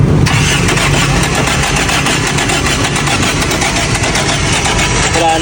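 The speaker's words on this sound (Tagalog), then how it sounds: "talagang tila ba nag-beatbox na yung makina neto ni Recti." A jeep engine sputters and chugs in a rapid, uneven rhythm, loud and close, repeatedly catching without settling into a smooth idle, failing to start.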